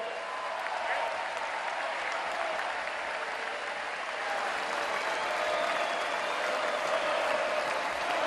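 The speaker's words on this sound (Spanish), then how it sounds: "fuerte, fuerte el aplauso para Leopoldo Moró" Sustained applause from a large political crowd for Leopoldo Moreau at a tribute to Hipólito Yrigoyen, a steady roaring wall of clapping and crowd noise with an announcer's voice faintly mixed in.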